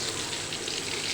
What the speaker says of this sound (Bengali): আমি এরকম সবগুলো বেগুন ভেজে নিব